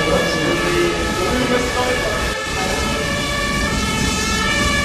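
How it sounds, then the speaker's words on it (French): Fire engines pulling out with sirens wailing during a fire station open day in Namur, a loud continuous siren blend with engine rumble and crowd noise throughout. "les véhicules se mettent en route sirène hurlante"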